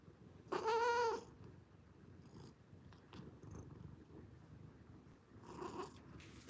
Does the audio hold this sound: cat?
yes